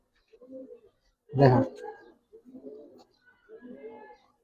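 Giribaz high-flyer pigeons coo softly in low, rounded phrases close by. A voice breaks in briefly between the coos.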